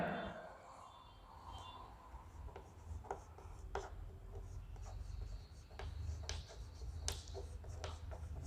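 Pen scratching across paper as a report is written out, soft strokes and scribbles repeating steadily, close and quiet with no one talking over them.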